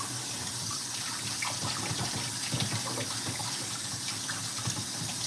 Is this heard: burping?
no